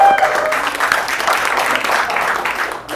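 Applause from a standup comedy audience at a Diwali function, a dense wash of clapping that holds steady for about three seconds before fading at the end.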